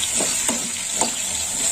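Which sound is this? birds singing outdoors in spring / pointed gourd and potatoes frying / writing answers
pointed gourd and potatoes frying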